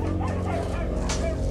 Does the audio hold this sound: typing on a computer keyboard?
no